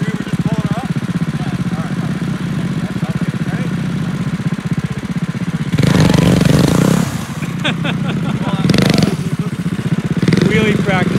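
Motorcycles fitted with wheelie bars run during wheelie practice, their engines droning steadily and then surging into loud, rough revving bursts nearby.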